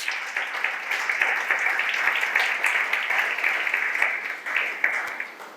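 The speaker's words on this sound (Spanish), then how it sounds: "un aplauso a Dios por su palabra y esos hombres" A church congregation claps in praise to God during a sermon, steady clapping from many people throughout, moderately loud and slightly distant, with no talk over it.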